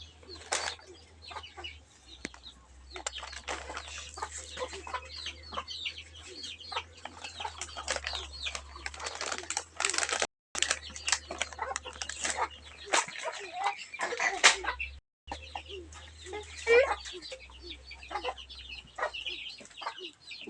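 A pet bird being fed at home makes clucking calls and short bursts of wing flapping, with people talking quietly nearby throughout.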